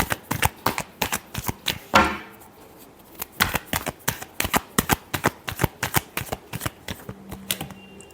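Tarot cards being shuffled by hand in quick, crisp riffling bursts, close and fairly loud, with a short pause partway through and a brief low hum near the end.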